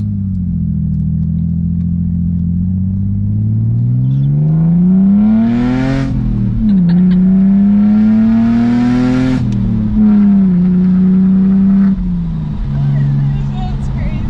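A Z4's engine with new headers revs up and down repeatedly with a deep, throaty exhaust tone, loud and close, rising in pitch on each rev.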